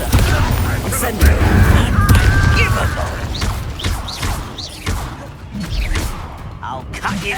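Confringo, Bombarda and Incendio spells cast in rapid succession during a Hogwarts Legacy fight, a loud chain of booms, crashes and thuds with shouting voices over the combat.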